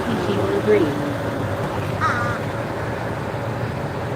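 A loud bird calls from up on a rooftop, giving a short harsh crow-like call partway through over steady outdoor background noise.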